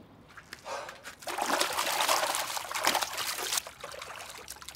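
Water poured from a scoop splashes down for face washing, a close, steady trickling pour that swells for a few seconds and then tapers off, with no one speaking.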